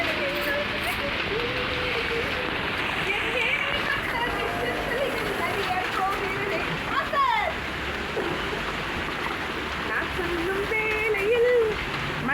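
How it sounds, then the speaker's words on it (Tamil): Heavy rain pours down in a steady, dense hiss, with people talking over it throughout. "நான் இங்கே மழையில் வீடியோ பிடிச்சின்னுக்கிறேன்"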